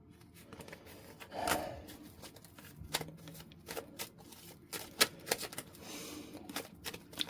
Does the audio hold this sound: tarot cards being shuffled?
yes